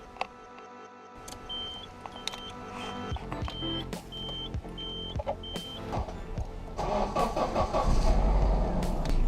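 A stock manual Nissan 240SX starts with a few electronic beeps and clicks, then its engine catches and runs with a rising, rough idle, close by.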